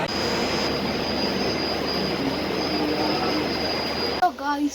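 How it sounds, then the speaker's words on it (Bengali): A local train from Kolkata toward Malda rumbles along steadily with a loud continuous roar and a high whine, then the noise drops and a voice speaks briefly at the end. "আমরা এখন লোকাল ট্রেনে আছি"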